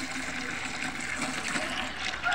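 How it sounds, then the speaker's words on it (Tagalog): Water is poured into a pot while planting lemon grass, a continuous close splashing and gushing pour that holds steady throughout, with no talking over it. "Ilalagay natin yung tubig."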